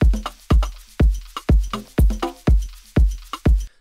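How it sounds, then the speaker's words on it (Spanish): Percussion-only intro of the reference song, drums alone with punchy hits roughly every half second in a steady groove, loud and clear with no other instruments or voices. "tiene una intro donde solamente están sonando las percusiones"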